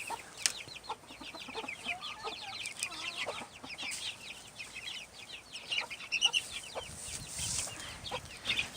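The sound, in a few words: chickens clucking in a brooder coop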